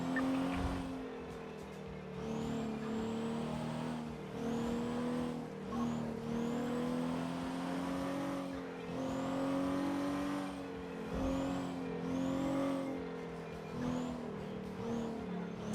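In a GTA 5 police chase, a car engine revs hard again and again, its pitch climbing and falling in repeated surges, with tires squealing through sustained, loud driving.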